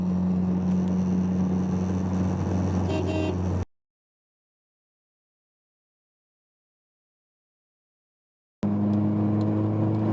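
A K-swapped Honda engine pulls hard with VTEC, giving a steady, loud tonal drone from inside the car. The sound cuts to total silence for about five seconds before the engine returns.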